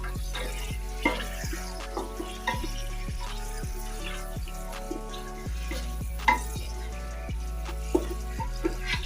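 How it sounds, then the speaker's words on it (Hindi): Meat fries in oil for nihari with a soft, steady sizzle, broken by repeated clinking and scraping stir strokes against the pot, close and moderately quiet, with no talking. "इस गोश्त को तकरीबन हमें 10 मिनट तक इसमें ही भूनना है तेल के साथ"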